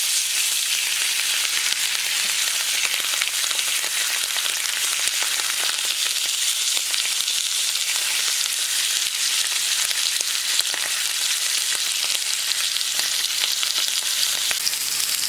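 Beef tenderloin sears in a hot pan after being flipped, producing a loud, continuous sizzle and spatter that holds steady for the whole stretch, with no voices.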